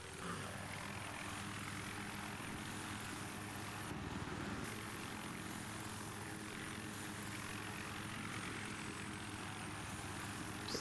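A military helicopter in the first-person shooter Battlefield 3 on the Armored Shield map, a steady whirring rotor and turbine drone that holds constant and moderately loud throughout, with no speech.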